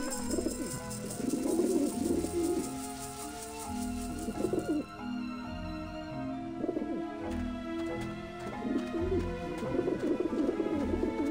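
Pigeons coo in repeated soft bursts in Grim Fandango Remastered, the cooing rising and fading over a sustained musical backdrop, fairly close and clear.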